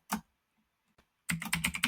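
Keys tap on a computer keyboard: a single click, a quiet pause, then a quick, close run of several keystrokes.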